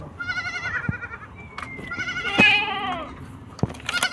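Goats and sheep at a farm shelter bleat in wavering cries, one rising call after another, close by, with some soft background noise and brief knocks.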